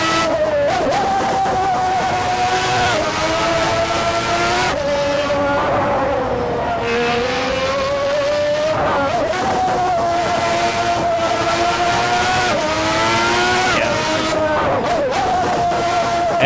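A race car in the Assetto Corsa racing game screams loudly through its gears, its engine pitch climbing and dropping in repeated shifts with no pause, close and sustained throughout.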